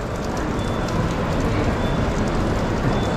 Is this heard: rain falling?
yes